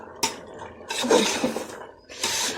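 Jackfruit curry is stirred in a metal pot, with scraping clanks of a spoon against the pan in three short bursts and quiet gaps between.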